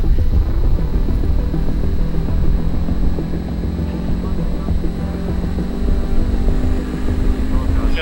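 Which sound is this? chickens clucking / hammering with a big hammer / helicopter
helicopter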